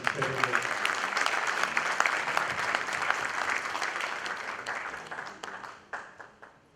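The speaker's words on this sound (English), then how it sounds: "round of applause for all the panelists" A conference crowd applauds the panelists steadily for several seconds at SemiconIndia 2023, dense clapping that tapers off near the end.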